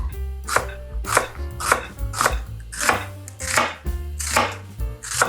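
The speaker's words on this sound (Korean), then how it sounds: "양파 반 개를 채 썰어서 넣을 거예요." Quick, rhythmic knife chops slice an onion against a cutting board, about two strokes per second, close and crisp, with no talking.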